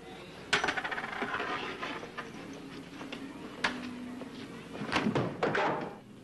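Balls thrown at stacked milk bottles at a carnival stand, with several sharp knocks and clatters, one near 0.5 seconds, another near 3.7 seconds and a cluster around 5 to 5.5 seconds, over a busy fairground background.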